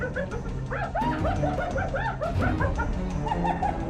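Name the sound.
wild dog pack barking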